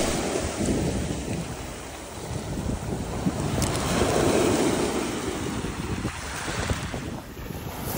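Waves washing onto a Virgin Islands beach, a steady broadband surf roar with wind buffeting the microphone throughout, no voices.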